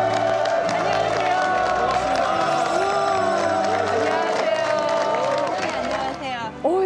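Studio audience in a Korean talk show welcoming a former Miss Korea with applause and cheering, loud and continuous under music and voices, fading near the end.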